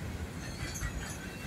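Two northbound freight trains passing at once, a steady broad low rumble with hiss above it, continuous and fairly quiet at a distance.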